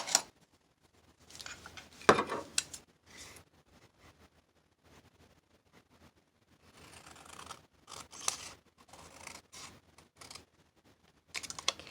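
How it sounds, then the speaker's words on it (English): Scissors cutting paper for a junk journal, several short snipping bursts spread across the clip with quiet gaps between them, close and soft. "cut along the edge of this."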